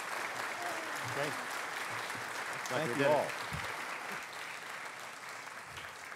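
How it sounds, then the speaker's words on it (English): Audience applause for a conference panel on Internet governance fills the room with steady, dense clapping, while someone speaks briefly over it near the middle. "big hand of applause for our panel"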